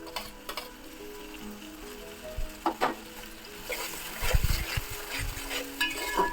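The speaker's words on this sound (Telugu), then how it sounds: "నేను ముందుగా కట్ చేసుకున్న టమాటాలు వేసేస్తున్నాను" Onions and tomatoes with salt and turmeric frying in a pan for a chicken brinjal curry. A moderate sizzle is broken by several scraping stirs and knocks of the utensil against the pan, and no voices are heard.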